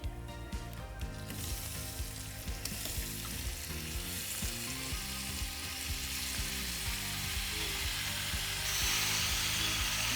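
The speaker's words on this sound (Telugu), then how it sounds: "మంచిగా వేయించుకోవాలి పన్నీర్ డీప్ ఫ్రై చేయకుండా ఇలా సింపుల్గా ఫ్రై అనమాట" Paneer pieces shallow-frying in a pan of garam masala gravy, a steady close sizzle and crackle running throughout with occasional stirring scrapes, growing slightly louder near the end.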